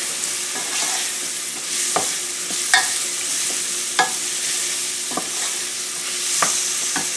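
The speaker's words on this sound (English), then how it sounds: "And then we're going to throw the onions in. And the peppers, the chilies." Onions, peppers and chilies sizzle in a hot pan with a steady frying hiss, broken by repeated sharp scrapes and clacks as they are stirred, close and without talk.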